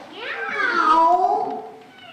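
A cartoon pet cat gives one drawn-out, loud meow that rises and then falls, close and clear.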